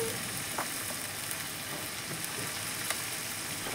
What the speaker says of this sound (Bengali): এই মশলাগুলো তেলের মধ্যে ভালো করে ভাজা হয়ে গেলে